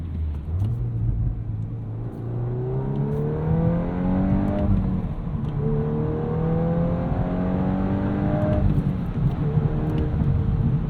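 A 2022 Volkswagen Golf R with a 6-speed manual revs repeatedly, its deep, bassy exhaust note climbing in pitch through the gears, loud and close with a steady rumble beneath.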